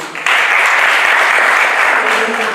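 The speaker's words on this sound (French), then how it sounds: "sous vos ovations, s'il vous plaît." Applause welcoming a speaker at a spoken-word event, dense clapping that starts abruptly and holds steady, loud and close.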